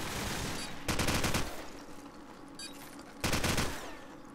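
Automatic gunfire from Call of Duty 4 ProMod, two loud rapid bursts standing out over a steady background of game ambience, with a quieter gap between them.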